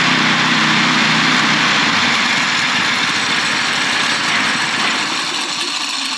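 Small engine on a mini chopper running in cold weather, a loud, steady, buzzing idle close by that holds without a break throughout, with no voices over it.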